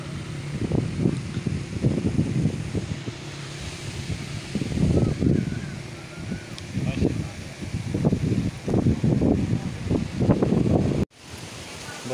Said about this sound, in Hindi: बहुत ही तेज़ हवा चल रही है और बहुत ही धूल है